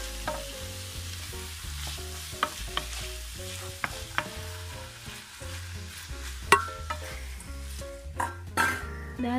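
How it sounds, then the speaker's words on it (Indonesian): Chopped cabbage is stirred in a pan for mini martabak filling with the heat switched off, giving a gentle residual sizzle, soft rustling, and irregular clinks of a utensil against the pan. "Kemudian masukkan kolnya."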